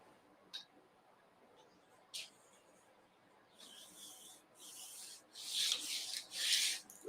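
Hand sanding on vehicle body work: quiet scattered scrapes at first, then a series of louder rasping strokes close by that build in strength toward the end.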